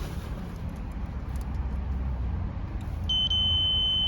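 Multimeter continuity beep on a commercial heat pump unit: a thin, steady electronic tone that starts near the end and holds over a low outdoor hum, with a short break just after it begins.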